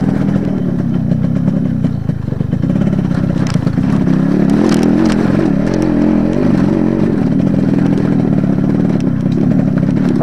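A Yamaha RX100 motorcycle rides offroad through rural interior Jammu, its engine a loud, steady close drone with rising and falling revs and clattering, continuous throughout, no voices.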